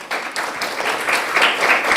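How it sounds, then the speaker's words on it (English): Audience at a student citation ceremony breaks into applause, individual claps audible within a lively, moderately loud crowd that swells slightly as it continues. "Let's give them a nice round of applause."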